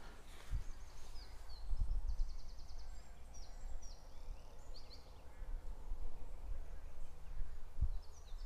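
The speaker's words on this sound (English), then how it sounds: "Pigeons cooing, birds cheeping." Birds twitter and cheep softly at a distance in a Suffolk churchyard among overgrown headstones, with a few brief high calls and a low rumble of wind or distant traffic underneath; any pigeon cooing is not distinct.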